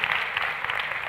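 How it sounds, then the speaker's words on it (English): A brief burst of dense crowd applause fills a comedy therapy session at Anarchapulco 2017. The sound is continuous and moderately loud throughout. "give yourselves a fucking round of applause just for being here and being okay"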